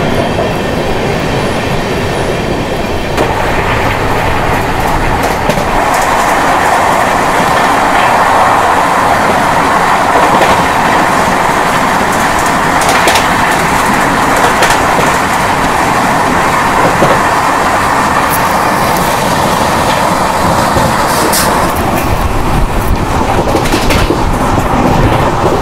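An Indian Railways Kota Jan Shatabdi express overtakes on the line, heard from an adjacent train as a continuous loud rumble of wheels and rattling carriages with rhythmic clacking and occasional squeals throughout.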